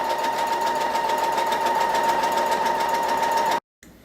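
A sewing machine stitches with conditioned thread, a loud, steady, close mechanical whir with a rapid rhythmic hum that stops abruptly near the end.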